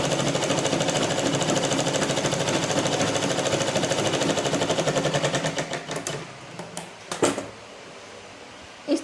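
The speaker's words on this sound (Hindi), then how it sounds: "ऐसे रख करके और ऐसे सिलाई कर दूँगी" A sewing machine runs in a rapid, steady stitching rhythm while sewing a hook strip onto a blouse, then slows and stops, followed by a few clicks and light handling knocks.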